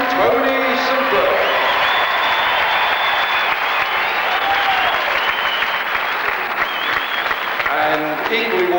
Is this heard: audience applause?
yes